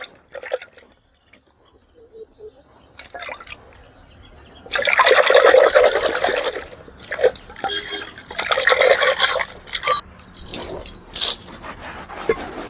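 Water pours in bursts, splashing and trickling into a container to soak tamarind for drumstick pickle, with quiet pauses and drips between the pours.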